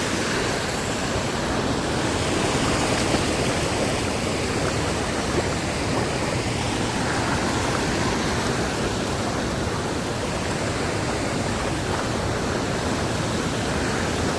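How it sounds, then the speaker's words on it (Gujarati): Rainwater flows through a village stream and pours over a drop in a loud, unbroken rushing roar that stays constant throughout, with no voices. "જો એટલું પાણી પડી જાય."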